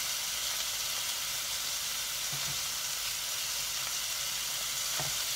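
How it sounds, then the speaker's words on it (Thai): Chili frying in hot oil in a pan in a small apartment kitchen, giving a steady, loud sizzle and hiss that runs the whole time, with a few faint clinks of stirring and no talking. "ใส่พริกมันแล้ว"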